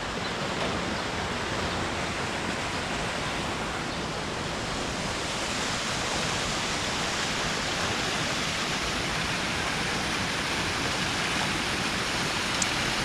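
An artificial pumped waterfall by the pool at an RV resort in Pahrump, Nevada pours in a steady, dense rush of falling water that stays constant and fairly loud throughout, with no voices.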